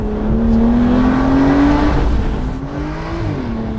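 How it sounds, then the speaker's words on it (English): A loud Aston Martin V12 engine revs up with a rising whine, holds, then dips and climbs again, heard up close from inside the car. "Dude, the V12 sounds great too."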